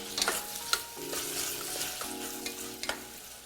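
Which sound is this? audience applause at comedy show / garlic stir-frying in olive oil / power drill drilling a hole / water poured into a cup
garlic stir-frying in olive oil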